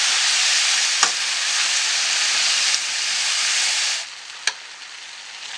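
Beetroot poriyal cooking in a pan over a low flame, a steady broad sizzling hiss that holds for several seconds, then drops quieter, with two sharp utensil knocks, close, no talking.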